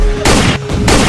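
Burst-like gunfire from a video game, three dense loud blasts in quick succession filling the whole short stretch, with only brief dips between them.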